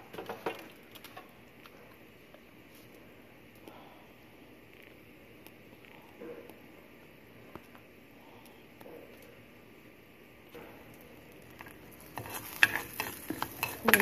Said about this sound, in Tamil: இந்த சட்டி சூடானவுடனே இந்த உளுந்தம்பருப்பை இதில் வறுத்து எடுத்துக்கணும்.